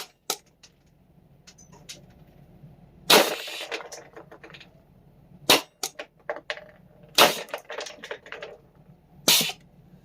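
A FLAK 10 toy blaster fires in single sharp pops, four louder shots spaced a couple of seconds apart among smaller clicks and mechanism rattles, close to the microphone with no talking.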